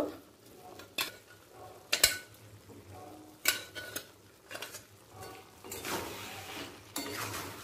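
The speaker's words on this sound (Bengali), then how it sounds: "প্রথমে জল ঝরিয়ে আমি কাবলি ছোলাটা চিকেনের সাথে একটু কষিয়ে নেব।" Boiled chickpeas are sautéed with chicken in a pan over a medium-high gas flame for chicken chana masala: a soft sizzle runs under repeated sharp clinks and scrapes of a spoon against the pan, with no voices.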